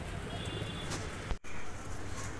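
Pure Rampuri pigeons with pink beaks coo softly in a breeding loft, low murmuring calls set against steady background noise, with a brief interruption partway through.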